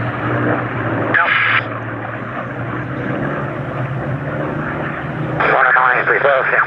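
Aircraft 109 flies a display routine at Sywell Airshow, its engine droning steadily at a distance throughout, with radio calls and talk over the top.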